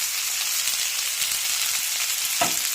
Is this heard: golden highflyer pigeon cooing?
no